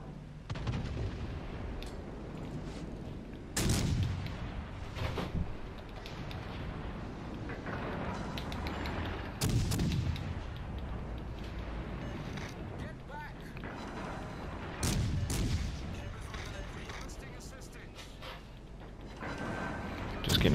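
Heavy naval turret salvos from the USS Worcester cruiser in World of Warships Legends, several deep booming volleys spaced a few seconds apart over a constant rumbling engine and water bed.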